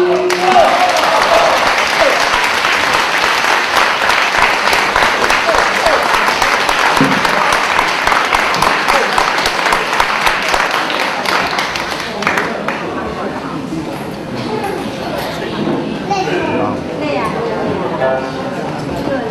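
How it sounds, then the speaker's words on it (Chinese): An audience claps loudly and continuously after a traditional Chinese danxian ballad performance. The applause dense for about twelve seconds before thinning into quieter scattered clapping and room noise. "谢谢大家的掌声鼓励"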